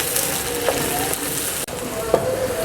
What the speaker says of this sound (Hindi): ऑयल हमारा गर्म हो चला है। जमाल भाई अब प्याज का इस्तेमाल करेंगे जी। प्याज डालेंगे।